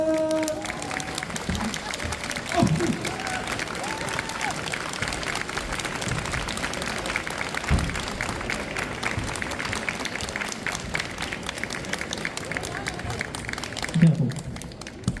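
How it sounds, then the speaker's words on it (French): An audience at a Stargate fan convention in 2023 applauds as an actor is welcomed on stage, dense steady clapping and some cheering filling the room for about fourteen seconds, with voices mixed in and a short spoken exchange near the end. "sous vos applaudissements qui seront, j'en suis sûr, des milliers, des millions"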